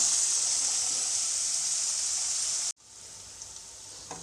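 Vegetables for fried rice cooking in a pan give a steady, bright hiss of frying, close and even, then a sudden break and a quieter, continuing sizzle.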